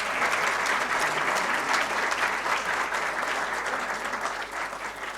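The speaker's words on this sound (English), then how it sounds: "Can we have an applause for him?" Listeners at a book launch talk on Tipu Sultan applaud the author, a sustained, even wash of clapping from a sizable crowd that slowly fades over five seconds.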